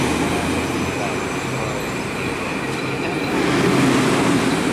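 A train rolls through the Park Avenue portal with a loud, continuous rumble and rail noise that swells slightly near the end, with no talk over it.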